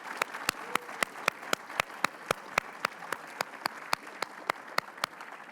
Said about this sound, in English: So a round of applause for all of the College of Engineering staff.